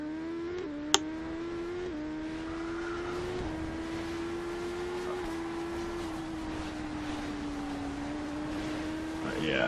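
A BMW motorcycle engine in the TT Isle of Man Ride on the Edge 2 racing game holds a steady droning hum with small pitch shifts throughout, and one sharp click comes near the start.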